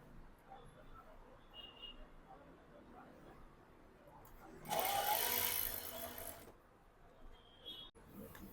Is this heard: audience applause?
no